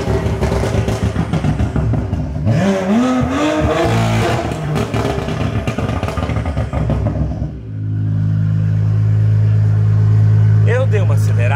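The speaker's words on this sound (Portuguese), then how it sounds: "Eu dei uma acelerada só para vocês entenderem a diferença entre os dois carros" A Porsche Panamera engine revs hard with a rising, throaty roar, then settles into a loud, steady idle rumble close by, with people talking over it.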